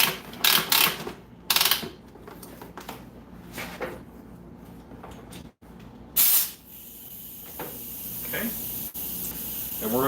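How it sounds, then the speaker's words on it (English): Paint sprayed through an airbrush driven by an air compressor gives short bursts of hiss and several longer sprays, with clicks and handling noises in between and a person speaking briefly. "this is the quick change compressor"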